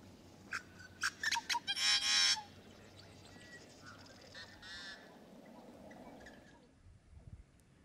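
A wood duck gives a few sharp, squeaky calls followed by a longer rising whistle, close by over a quiet outdoor background.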